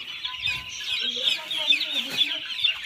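Broiler chicks being held for an injection let out a continuous stream of stressed high peeping and clucking, close by and overlapping, with faint handling noise underneath.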